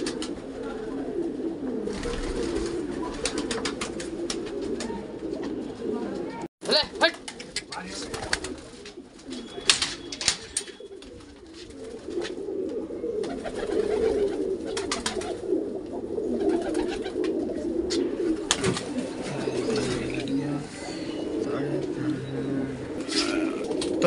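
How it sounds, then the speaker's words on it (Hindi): Feral pigeons coo in soft, repeated low calls close by, with wing flutters and shuffling, while a person talks over them at intervals. "तो गाइस जंगली कबूतर है नहीं,"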